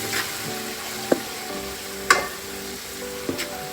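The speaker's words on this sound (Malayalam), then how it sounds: "ചിക്കൻ നമുക്ക് കൂടുതൽ ചിക്കൻ ഉണ്ടല്ലോ, ചേർത്ത് നല്ലോണം ഇളക്കി കൊടുക്കാം." Chicken pieces for a Hyderabadi dum biryani sizzle steadily in a hot frying pan while a spoon stirs them, with a few sharp scrapes and clinks of utensil on metal.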